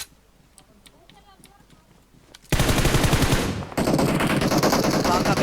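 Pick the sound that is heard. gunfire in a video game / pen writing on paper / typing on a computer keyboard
gunfire in a video game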